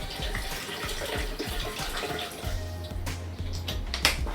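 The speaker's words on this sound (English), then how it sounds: "We're gonna get started by pouring the entire water bottle." Water from a whole bottle pours into a blender jar, a steady close splashing trickle that shifts in tone as the container fills, with faint clinks and no talk.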